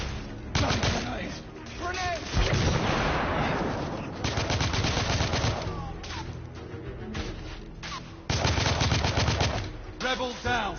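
Rapid bursts of video-game gunfire and a grenade blast crack loudly through a tense firefight, coming in dense volleys with short lulls between, while voices shout over the action.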